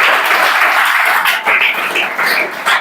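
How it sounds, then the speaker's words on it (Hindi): A classroom of students preparing for a Chhattisgarh police recruitment exam claps loudly together in a dense, sustained burst of many hands, with slight swells near the end. "जोरदार ताली बताओ"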